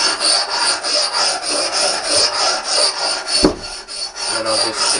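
An axe blade is rubbed back and forth on a sharpening stone in steady, rhythmic rasping strokes, close and fairly loud, with a brief spoken phrase partway through.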